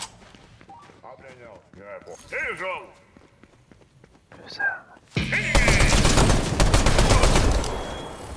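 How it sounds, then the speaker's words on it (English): Dense burst of video game gunfire in Fortnite erupts midway and continues loud to the end, following a stretch of talk and small scattered sounds. "Gunfire."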